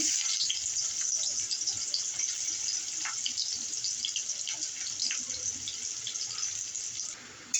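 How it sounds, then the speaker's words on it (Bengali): Onions frying in oil for a sarputi fish bhuna, a continuous bright crackling sizzle that holds steady and breaks off near the end, with no talking. "পেঁয়াজটা আলাদা করে ভেজে নিচ্ছি"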